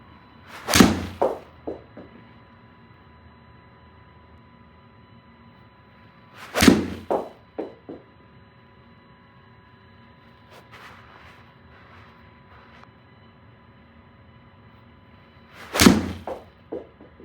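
A golf club strikes a Titleist Pro V1 golf ball on three separate swings, each a sharp, close impact crack followed by brief echoing decay, spaced several seconds apart over a faint steady hum.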